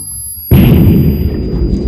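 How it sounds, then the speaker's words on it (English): A sudden, very loud practical explosion from the 2002 war film The Pianist bursts in after a near-silent moment, then rolls on as a sustained rumbling roar. "There's a lot of great practical explosions."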